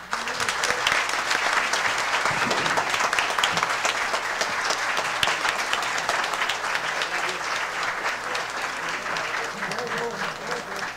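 An audience applauds Rio de Janeiro councillor Leonel Brizola Neto at a PSOL event, dense sustained clapping filling the room for the whole stretch, with crowd voices faintly underneath.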